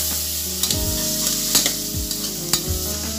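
Onions, tomato and peas sauté in a pan for vegetable biryani, a loud steady sizzle punctuated by repeated metallic scrapes and clinks of a stirring spoon, close up and without voices.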